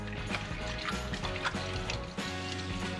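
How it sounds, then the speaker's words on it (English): Milk and eggs being whisked together in a bowl make a continuous wet, sloshing clatter with quick rhythmic strokes, close and fairly loud, with no talk. "And we're gonna whisk this and this together."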